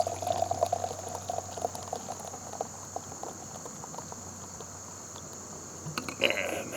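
Barrel-aged imperial stout being poured into a glass, a soft continuous fizzing, bubbling trickle at close range under a steady background hum, with no talking.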